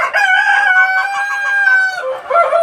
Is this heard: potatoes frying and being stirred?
no